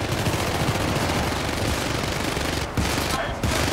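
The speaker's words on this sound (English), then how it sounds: "Shoot him one more time." Sustained automatic gunfire in the co-op shooter Syndicate, a loud, unbroken stream of rapid shots with a couple of brief gaps near the end.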